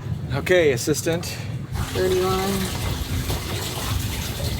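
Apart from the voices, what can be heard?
water filling a one-liter container from a boat watermaker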